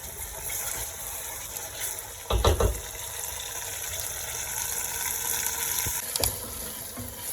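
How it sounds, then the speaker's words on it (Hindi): Garlic-ginger paste frying in an onion and tomato paste for achari chicken, a steady close sizzle with brief louder bursts of spattering or stirring around the middle and near the end. "इस मौके पे हम इसमें 2 चम्मच लहसुन और अदरक का पेस्ट डालेंगे और फिर इसको थोड़ी देर के लिए मज़ीद पका लेंगे"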